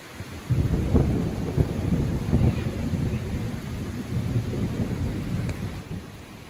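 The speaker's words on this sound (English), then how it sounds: "It wasn't long before the storms reached us." A thunderstorm rolls over a small one-room cabin near lakes, with steady rain and several deep, rumbling thunder booms coming in waves of moderate loudness.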